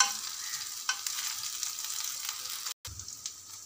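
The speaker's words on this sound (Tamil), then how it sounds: "வாழைக்காய் நல்லா ஃப்ரை ஆகிடுச்சிங்க பாருங்கள்" Raw plantain slices frying in oil in a pan, a steady close sizzle with light stirring scrapes and a brief break near the end.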